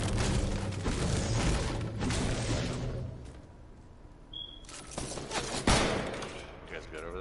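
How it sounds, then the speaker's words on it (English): Gunfire in a first-person shooter game with an assault rifle and light AR: dense bursts of rapid shots and booms rattle through the clip while a player talks over them. "He's shooting at me."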